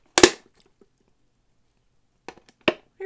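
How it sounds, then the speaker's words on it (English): A plastic lid on a fast-food Coke cup cracks with a sharp snap, then several quieter crackles and clicks follow after a pause, close to the microphone. "I broke the lid."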